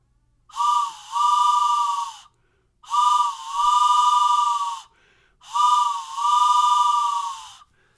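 Three long, loud whistle blasts, each with a brief dip then a sustained breathy steady tone, spaced by short pauses, like a train whistle imitation.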